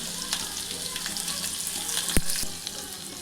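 Curry leaves and garlic paste sizzling in hot oil for a peanut sambar, a soft, continuous crackling fry with a sharp spit of a pop partway through, close by and fairly quiet.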